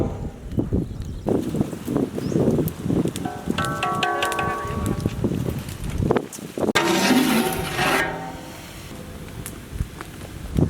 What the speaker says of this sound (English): As you can see, water is boiling. Now we are adding potatoes.